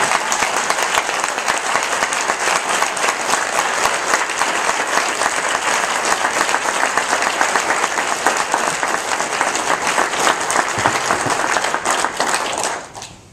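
Sustained audience applause welcomes the mayor of Houston, Texas, at an Equality NC keynote in North Carolina, a dense, steady wash of clapping from a large crowd that fades out at the very end.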